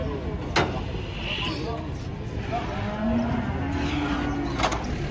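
Limousin cattle moo just after coming off a truck, a long low call drawn out near the middle, with voices and shuffling around them and a steady outdoor background.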